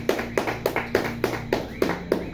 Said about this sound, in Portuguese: dando ainda salva de palmas para Jesus